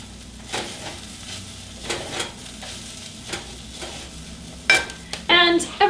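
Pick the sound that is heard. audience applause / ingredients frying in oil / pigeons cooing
ingredients frying in oil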